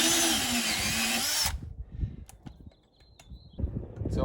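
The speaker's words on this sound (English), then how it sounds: "I'm going to drill out these 3 holes" A power drill bores holes through a Jeep JL rear bumper, whining loudly and steadily for about a second and a half before cutting off, followed by quieter clicks and handling noises.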